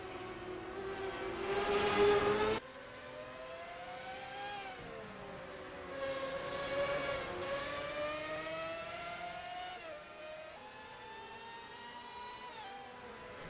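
Formula 1 cars racing at Brands Hatch in NASCAR Racing 2003 give a steady, buzzing engine whine that rises and falls with gear changes. A louder burst comes early, then the note settles into a continuous drone with no talk.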